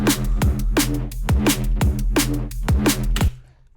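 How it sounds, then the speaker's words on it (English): A heavily processed neurofunk bass built from a sustained mandolin sample gives a repeating, distorted growl with a punchy downward swoop on each hit, about six even pulses, loud and dry with no voices. "I wanted this like sustained mandolin playing, and I've turned it into a rather demonic sound"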